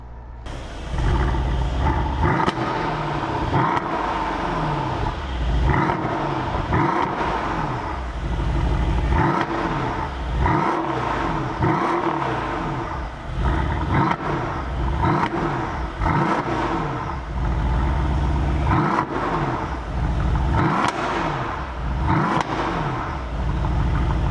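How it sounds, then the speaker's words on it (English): A Mercedes-AMG S63 Cabriolet engine with sport exhaust and four exhaust tips revs repeatedly in sharp bursts, each rev rising and falling in pitch, loud and close with a constant rumbling idle between. "Let's hear how it sounds from the 4 polished chrome exhaust tips."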